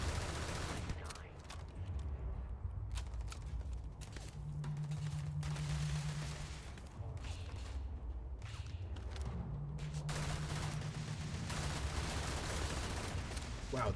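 Grendel rifle fire in Starfield, sustained loud bursts of rapid shots rattling across a noisy firefight, with brief pauses between volleys.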